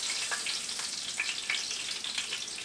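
Chicken fried steak frying in hot grease gives a steady, close crackling sizzle with scattered pops. It continues without a break, and nobody talks over it.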